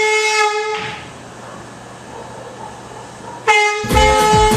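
A loud train-style horn blares at a carnival, sounding in long sustained tonal blasts at the start and again near the end, with a quieter crowd murmur between them.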